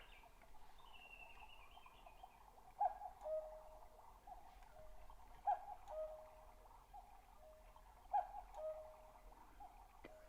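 A battery-powered Chalet cuckoo clock, model #6325, calls cuckoo three times in a steady two-note pattern, each call about two and a half seconds apart, faint over a quiet mechanical background with no speech.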